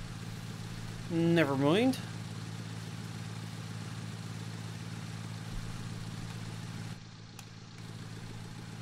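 A tractor engine in Farming Simulator 19, working grass with a mower on the Kolonia 1990 map, drones at a steady idle throughout, with a brief spoken voice over it early on.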